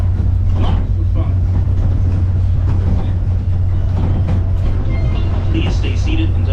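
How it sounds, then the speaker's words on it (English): Open-air tram rumbling along at Castaway Cay, Disney's island stop, with a steady low engine drone and road rumble throughout, plus faint background chatter and occasional clanks. "Please stay seated until the tram has come to a full and complete stop."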